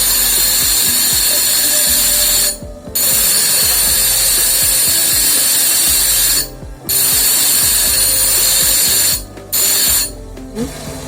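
A tile-working machine grinds and smooths the cut edge of a ceramic tile on its side surface, a loud steady whirring rasp broken by three or four brief pauses as the piece is lifted away, with no talk.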